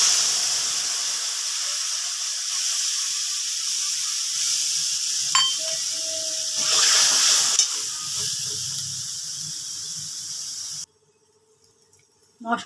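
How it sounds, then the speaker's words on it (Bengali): Spice paste hits hot oil with crackling panch phoron while cooking a tangy-sweet bhetki fish curry, a loud broad hiss with stirring scrapes that swells midway, then cuts to near silence. "এবার আমি মশলাটা দিয়ে দিলাম।"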